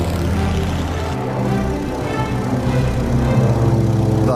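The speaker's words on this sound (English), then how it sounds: "Like many of the Red Baron's victims, I'm a sitting duck in this big two-seater" A World War I two-seater airplane engine in flight, a loud, steady propeller drone with a throbbing rumble that continues throughout, heard alone without talk.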